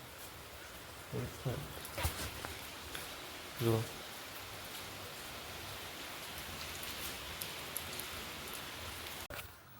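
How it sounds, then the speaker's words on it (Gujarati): Steady broadband hiss of rain falling, constant throughout, with a few brief knocks and a short spoken word partway through. "અત્યારે હું તમને વરસાદ ચાલુ છે દેખાડું"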